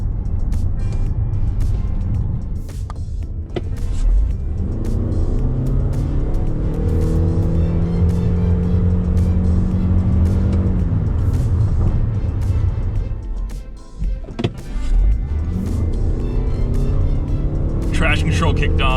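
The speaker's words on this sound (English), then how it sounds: "So I figured I'd record some very informal acceleration runs playing around with the RAV4 Prime." A 2021 Toyota RAV4 Prime plug-in hybrid SUV with 302 hp accelerating hard, engine note rising in pitch in repeated sweeps with brief dips between runs, while a person talks over the cabin noise.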